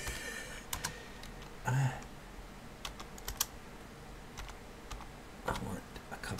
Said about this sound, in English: your keyboard is killing me here